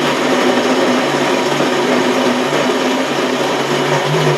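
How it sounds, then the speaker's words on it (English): Almond Cow nut milk maker grinding nuts, a loud, steady motor whir with a constant buzzing tone, close and uninterrupted, with no talking. "all you got to do is press the button once. What happens is it starts to grind up."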